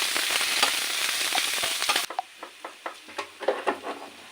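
Ginger garlic paste fries in a pan for chicken roast: a dense loud sizzle for two seconds, then quieter crackling with rhythmic stirring scrapes.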